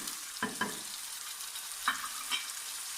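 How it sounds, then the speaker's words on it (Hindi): Chopped tomatoes, green chillies and ginger frying with browned onion and garlic for a yogurt chicken curry, giving a steady close sizzle broken by a few sharp spoon scrapes and stirs against the pan. "इसको भी 5 मिनट के लिए भून लेते हैं।"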